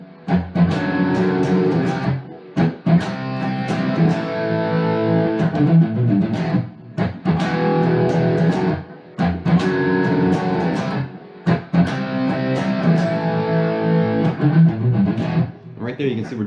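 Distorted electric guitar plays the chords of a rock song, loud strummed power chords in repeated phrases broken by short pauses, with no voice over them.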